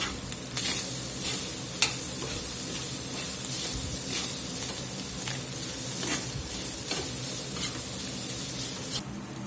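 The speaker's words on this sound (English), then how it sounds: "We're going to let these spices toast up here just a minute or two to really bloom out" Spices and black pepper toasting in a hot pan, a steady close sizzle and hiss with scattered crackles and occasional stirring scrapes throughout.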